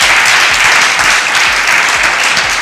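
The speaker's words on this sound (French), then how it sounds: "J'aimerais qu'on s'applaudisse encore très fort." A studio audience at a café-style show claps loudly and continuously, a dense, close wash of applause with no voices over it.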